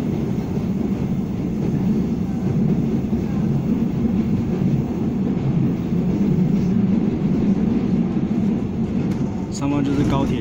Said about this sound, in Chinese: 上方就是高铁 T700型台湾高铁。